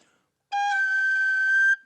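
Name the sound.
Irish whistle being played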